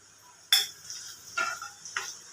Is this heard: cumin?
yes